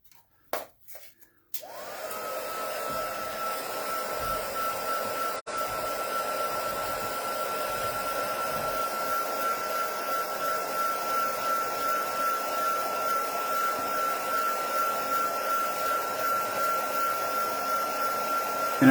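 A hair dryer is switched on after a few clicks and blows a craft layer dry with a loud, steady whirring hum and a constant high motor whine that runs unbroken to the end.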